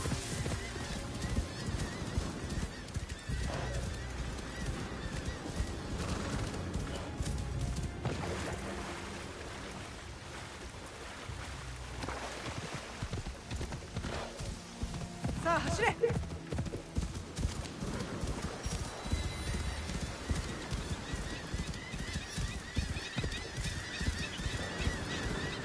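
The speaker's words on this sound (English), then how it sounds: "thank God for games that let your horse swim" In the video game Assassin's Creed Shadows, hooves clip-clop rhythmically and a horse whinnies amid splashing water and game sounds, with a player talking over much of it.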